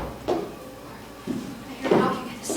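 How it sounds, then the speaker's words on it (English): Stage knocking at a door rings out during a college production of Macbeth, several separate knocks spaced unevenly, fairly close and moderate in loudness, with a faint voice in the background. "I hear knocking at the south entry."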